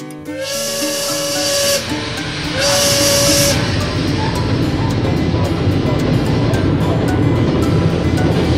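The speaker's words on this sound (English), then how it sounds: "Steam engine." A steam engine gives two sharp, close whistle blasts over loud hissing steam, then settles into a continuous heavy hiss and rumble.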